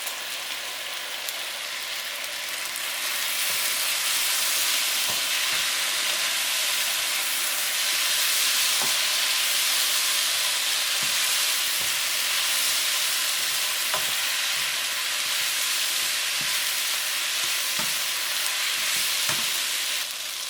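Udon noodles frying with bulgogi beef in a pan, a steady close sizzle with occasional stirring clicks throughout, no voices.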